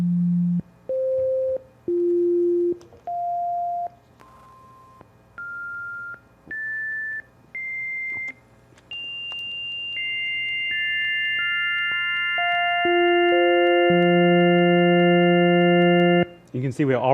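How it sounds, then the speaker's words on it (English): Individual drawbar tones of a homemade portable electronic organ, played one after another: a series of steady pure tones stepping upward in pitch, then sustained stacked tones layering together, clean and close with no talk. "Here's an audio clip that plays the tones from each drawbar in order."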